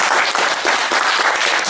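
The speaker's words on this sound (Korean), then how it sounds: "우리 뭐 외국 분들 오셔서 박수 한번 쳐주실까 봐요" Loud, dense applause from a concert audience at an amateur vocal music association's recital, a brief burst of many hands clapping close and continuous.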